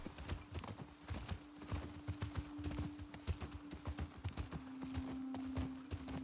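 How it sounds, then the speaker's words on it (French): Horse hooves clip-clop steadily in The Last of Us Part II video game, a rhythmic run of close, loud hoofbeats over a constant droning tone, with no talk. "La petite balade à cheval, là"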